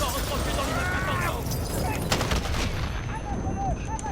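Bursts of rapid gunfire in the Modern Warfare video game amid a civilian area near a pharmacy, loud and close, with several volleys over continuous game noise and a voice speaking over it.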